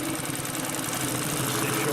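A Consew P1255RB heavy-duty sewing machine, built for canvas, marine and car upholstery, runs near its capacity through thick material, giving a steady, close motor drone with a low hum that holds throughout.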